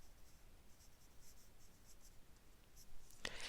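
A pen scratches words onto paper for a Zentangle-inspired drawing, soft and close with light strokes over a quiet room, ending in a brief sharp scrape; no one talks.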